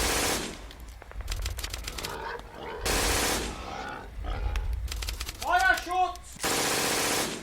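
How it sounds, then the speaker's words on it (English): Medium machine gun fire in a World War Two SAS versus German skirmish, several loud rapid bursts of rattling shots alternating with short gaps, and voices shouting in between. "The MMG team furiously keep firing."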